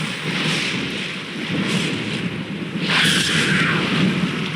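Stormy weather in the Dragon Age 2 video game, a continuous wash of heavy rain with low rumbling thunder, swelling into a louder burst near the end.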